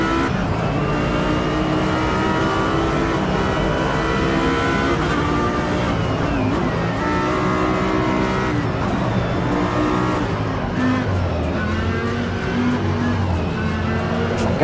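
Race car engine in the Project Motor Racing video game, with a McLaren among the cars, holds a loud, continuous drone through the whole stretch and shifts pitch as the car revs up and eases off, and tires squeal now and then.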